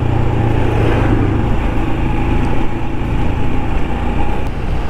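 A Royal Enfield Himalayan Scram 411 motorcycle cruises steadily along a highway on a touring ride, its engine a continuous low drone with rushing wind, close and fairly loud throughout.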